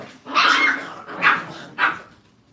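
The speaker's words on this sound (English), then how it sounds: "Somebody growled louder that time." Puppies in a kennel let out three growling barks at close range, loud and ragged, with short pauses between them.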